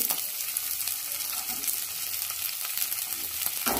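Cauliflower, beans and carrot frying for noodles, a dense steady sizzle with a constant hiss and faint stirring crackles throughout, close and even in level, no talk.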